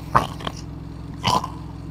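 A person's voice imitating a growling bear: two short, rough, guttural growls separated by a pause, close and fairly loud.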